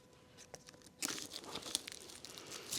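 Scissors cut through the cardboard and plastic packaging of a garden arbor, making crinkly, crunching snips and tearing rustles in short bursts, close and fairly quiet.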